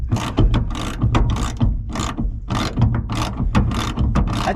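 A ratchet wrench loosening a rusty bolt on a 1978 Ford W150 in a junkyard: loud, close bursts of rapid ratchet clicking repeat in a steady back-and-forth rhythm, with no talking.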